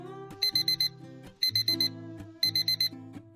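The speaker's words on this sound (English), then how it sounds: "the single tone of a beeping alarm" An alarm clock beeps in three quick bursts of four high-pitched tones, repeating at a steady rhythm over a soft background tone.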